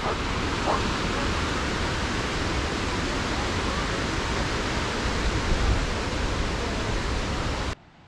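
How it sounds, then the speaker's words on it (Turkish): Tortum waterfall roars as a loud, steady, broadband rush of falling water close by, unbroken for about eight seconds before cutting off abruptly at the end. "Burası şelale."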